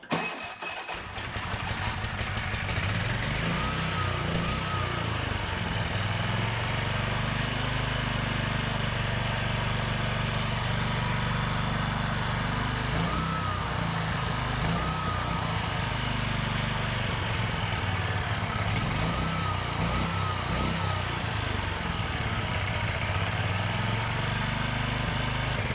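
Used secondhand generator engine running steadily at half choke, a loud, continuous mid-pitched drone with a rough, slightly uneven throb after it catches at the start.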